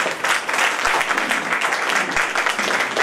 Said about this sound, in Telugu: కనీసం చప్పట్లు కొట్టడం మన ధర్మం